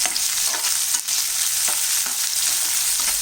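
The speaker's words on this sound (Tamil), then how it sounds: "இதிலே நம்ம பூண்டு, தக்காளி, கொஞ்சமாக கருவேப்பிலை இதையும் போட்டு நம்ம நல்லா வதக்கிடலாம்." Garlic, tomato and curry leaves sauteing in a pan, a loud continuous hiss of frying with faint rhythmic scraping of a spoon stirring throughout, close and with no voices.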